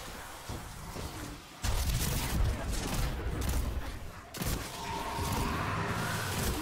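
Hand cannon gunfire in Destiny 2 during a Forsaken boss fight, heard as loud bursts of shots and booms amid dense, noisy game combat, with no speech.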